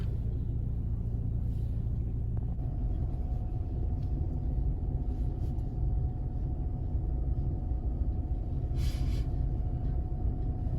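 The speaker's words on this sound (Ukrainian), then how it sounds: "Значить вже їде десь потяг." A steady low rumble of a train rolling past a level crossing, continuous and fairly distant, with a faint high tone running underneath.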